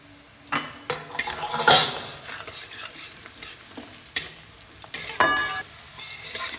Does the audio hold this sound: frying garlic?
yes